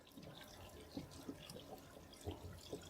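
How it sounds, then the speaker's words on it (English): Hot water runs from a kitchen tap onto a wooden cutting board, a steady close splashing hiss with a few irregular heavier splats, and no talk. "So I'm going to get some hot water. Just get in there."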